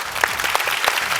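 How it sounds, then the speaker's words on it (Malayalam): A studio audience at a televised comedy show claps in a brief, dense burst of applause with scattered individual hand claps standing out. "അപ്പൊ എല്ലാരും ചേർന്ന് മനസ്സ് പറഞ്ഞൊരു കൈയടി കൊടുക്കും."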